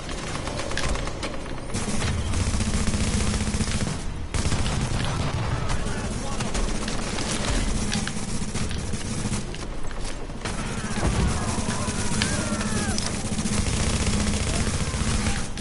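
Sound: heavy gunner enemies firing machine guns in The Division video game

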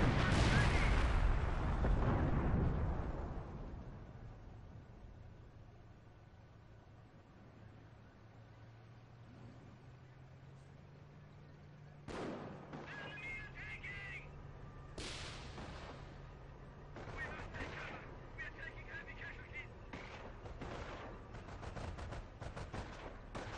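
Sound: AT gun on a mine exploding in a strategy video game

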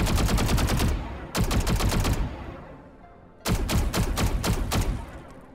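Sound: Xerofang Vandal rifle firing in video game Valorant

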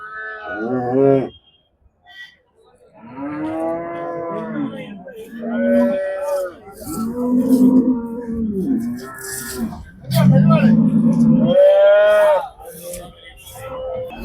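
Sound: dairy cows at a cattle market being loaded

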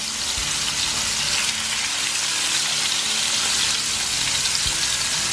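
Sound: crappie fish fillets frying in a pan

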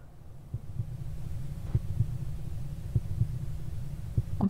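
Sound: heart pounding heartbeat in video game Sucker for Love

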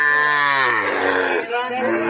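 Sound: Sahiwal bull calf mooing at cattle market

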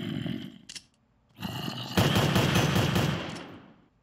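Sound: automatic gunfire from a gun in Minecraft video game

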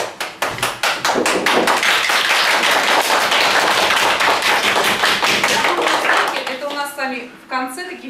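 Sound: class applause

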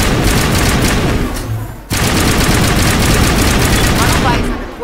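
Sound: gunfire crossfire in video game Mass Effect

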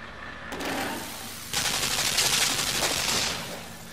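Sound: machine gun firing in the video game Limbo

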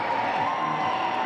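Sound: crowd cheering at women's basketball game

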